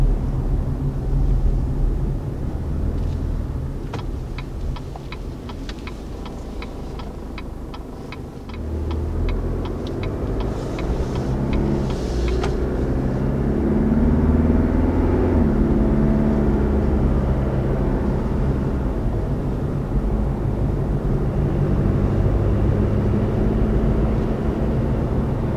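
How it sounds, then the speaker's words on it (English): A small diesel truck engine accelerates with a steady low rumble that builds in the middle and holds strong, with faint ticking and clatter in the first half. "this is a small truck, but it definitely has that big truck sound with the diesel"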